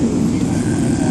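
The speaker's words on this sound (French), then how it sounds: "l'avion là-bas au fond, vous voyez, va décoller" A jet airliner prepares for takeoff on a runway at Dubai airport, its engines making a loud, steady roar throughout.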